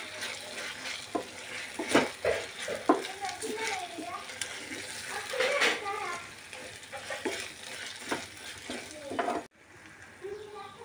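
Chicken liver frying with ginger garlic paste in a pan, a soft sizzle with irregular scrapes and clinks of stirring, fairly quiet, ending with a sudden drop near the end.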